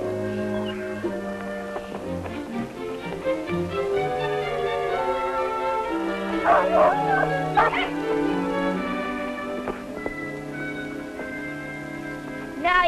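A dog yips, barks and whimpers in short bursts, half buried under a full orchestral film score playing throughout, with the canine cries rising briefly near the middle.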